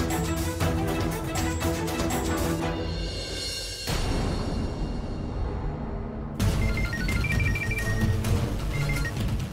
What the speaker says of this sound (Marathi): रिंग वाहिली आहे काय? होय खरं आहे. फोन नाही उचलत.